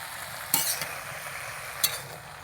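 Plum pickle in a kadai gives a faint steady simmering hiss, broken by two brief scraping clinks of a spoon stirring against the pan, with no voices.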